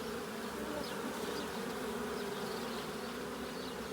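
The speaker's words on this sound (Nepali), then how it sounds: "ल देख्न सक्नुहुन्छ हाम्रो मौरी।" Honey bees swarm around their hive in a dense, continuous buzzing drone, steady and close throughout with no pauses and no talk over it.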